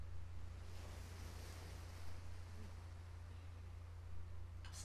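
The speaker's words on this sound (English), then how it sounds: "Sounds of the ocean in the background." Ocean waves wash softly and continuously on the Bioshock video game intro screen, a faint, steady surf hiss over a low rumbling drone.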